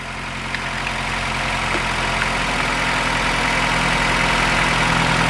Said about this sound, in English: So now the vehicle is running.